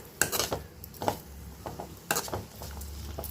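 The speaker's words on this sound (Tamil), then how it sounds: "இப்போ இது நல்லா முட்டைக்கோஸு வதங்கணும்" Cabbage being sautéed for a Tamil-style poriyal, stirred around a pan with repeated scraping and clinking of a utensil against the metal, a low sizzle underneath between the strokes.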